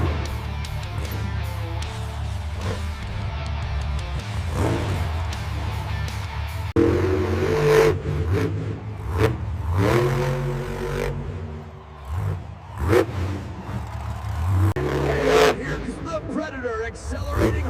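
A monster truck accelerates hard at a show, its engine revving and roaring in rising bursts with clattering, while a commentator talks over it throughout.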